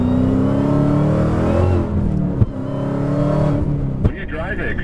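Supercharged 1,000 horsepower Dodge Hellcat engine rumbling loud and close with rising revs, steady throughout, while people talk over it.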